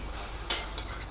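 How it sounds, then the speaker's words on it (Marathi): Mango pieces being sautéed in a thick pan (kadhai) for jaggery mango jam, giving a short scraping stir with a brief sizzle burst, then a fainter second scrape, close and alone. "तर हे थोडंसं परतायचं आहे"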